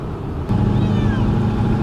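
A cat meows inside a moving car on an interstate drive from Louisiana to Minnesota. A single drawn-out meow rises over the steady low road rumble.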